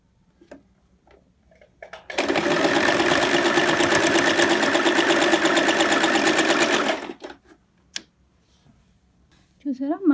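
Sewing machine stitching an apron made from an old kurti, running steadily for about five seconds as a loud, close mechanical whir, with quiet handling clicks and brief speech before and after.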